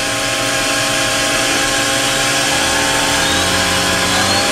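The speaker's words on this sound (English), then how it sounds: "we're going to show you how the spindle sounds in" The spindle of a 1999 O&H Millac 630H 4-axis CNC horizontal machining center runs up through its speeds with a tool fitted, a loud, continuous high whine with layered tones that holds steady.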